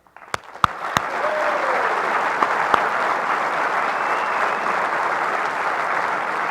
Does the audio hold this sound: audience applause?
yes